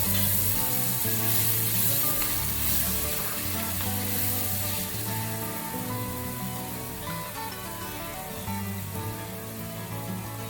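Paneer masala sizzling and frying steadily in a pan, a continuous loud hiss with faint stirring scrapes, no voices.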